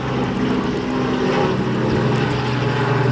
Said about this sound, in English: And now, of course, there's a helicopter flying over.